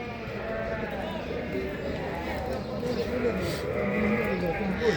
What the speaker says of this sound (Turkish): Oğlaklı keçiler var burada.